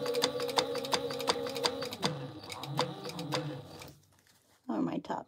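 A sewing machine runs a topstitch on a Honeycomb sew-along project, its rapid, regular mechanical ticking close and loud for about two seconds before slowing and stopping. A voice speaks briefly near the end.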